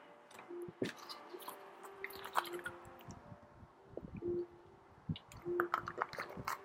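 Someone sipping and swallowing water, a series of close, quiet wet gulps, clicks and mouth noises spread unevenly over several seconds with no talk.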